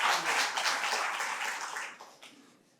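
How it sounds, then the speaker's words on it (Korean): A church congregation gives the choir a warm round of applause, a full, dense clapping that holds steady and then fades away toward the end. "뜨거운 박수로 다시 한번 보냅시다."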